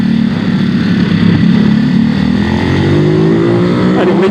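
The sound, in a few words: Ducati SuperSport 950 S motorcycle engine revving on circuit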